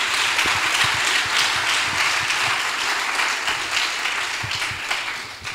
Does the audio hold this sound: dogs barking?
no